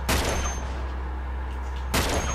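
Gunfire in Uncharted 2 at a mountain monastery, with a sharp broadband crack at the start and another near the end framing a stretch of low rumbling battle noise.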